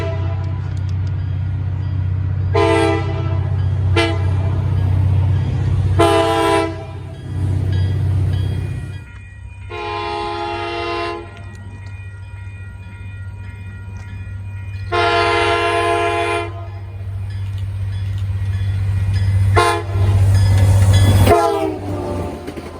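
Nathan K5LA air horns on an MBTA GMD GP40MC locomotive sound in several loud, chordal blasts of varying length over a steady low diesel rumble, with one final blast that is long and sustained.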